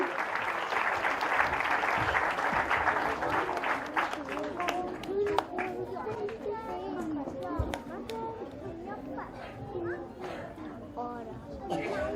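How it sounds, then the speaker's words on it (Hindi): Sustained clapping from a school annual day audience, a loud wash that gradually thins out while scattered voices and children's chatter carry on underneath. "केशव बरुआ के लिए जोरदार तालियां क्योंकि इन्होंने बहुत मेहनत की है।"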